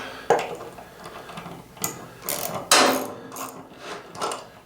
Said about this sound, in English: So we ran the bolt through. Get a wrench on there.